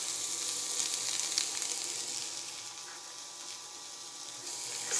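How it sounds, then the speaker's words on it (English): Leeks sautéing in oil in a pan give a steady, even sizzle and hiss that holds close and moderately loud throughout, with faint hints of stirring and no voices. "Now while our leeks are sautéing"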